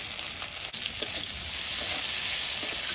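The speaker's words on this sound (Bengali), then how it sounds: "কালো জিরে, তেজপাতা, আদা কোড়াটা দিয়ে একটু টাইম নেবো, কারণ আদার কাঁচা গন্ধটা চলে যাওয়া পর্যন্ত।" Black cumin, bay leaf and ginger paste sizzle steadily in hot oil, a continuous close frying hiss with a faint stir partway through and no talking.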